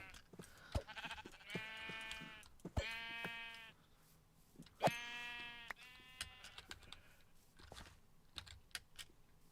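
Sheep in Minecraft give several distinct bleats, two long wavering ones standing out clearly, mixed with clicky keyboard typing and faint background sounds.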